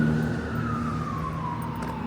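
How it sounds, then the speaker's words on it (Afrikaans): A medical emergency vehicle's siren wails on a busy street, a loud steady tone slowly gliding downward over low traffic rumble. "Dit is mediese sirene."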